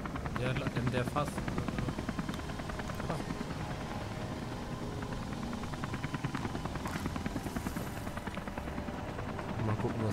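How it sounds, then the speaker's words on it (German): A helicopter in the video game Beyond Two Souls gives off a steady, rapid chopping rotor pulse with a dense whine, filling the whole stretch at even loudness. "Helikopter."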